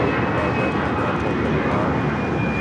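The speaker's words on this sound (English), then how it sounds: "58 taking off to San Antonio on the A319" A Delta Airbus A319 jet roars steadily on takeoff at LAX, a loud broad engine rumble with a thin high whine, while a voice talks over it.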